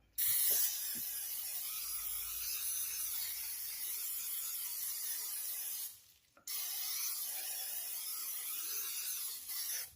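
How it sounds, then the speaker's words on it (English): A continuous hiss of cooking spray into a crock pot runs for several seconds, breaks off briefly, then resumes for a second long burst, close and fairly quiet. "you want to make sure you spray your crock pot"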